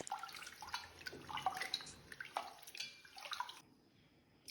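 Water sloshes and splashes in short bursts as rice is washed and swished around in a vessel, close and fairly quiet, ending in near silence.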